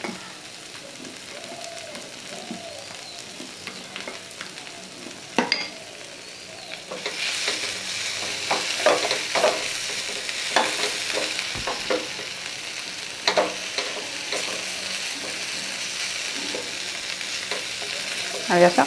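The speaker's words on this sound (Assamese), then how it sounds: "ডোছা বেটাৰটো মই ইয়াতে নিমখ দিয়া নাছিলোঁ এতিয়া নিমখ দি দিছোঁ নিমখ দি ভালদৰে লৰাই দিম" Salted dosa batter being stirred in a pan, wet scraping and sloshing strokes in an irregular rhythm, close and moderately loud, with a soft sizzling bed.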